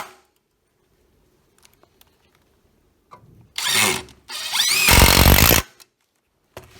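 Makita TID18 cordless 18V impact driver driving screws into a beam anchor: a short rattling burst, a brief pause, then a longer steady hammering whir that stops abruptly, close and loud.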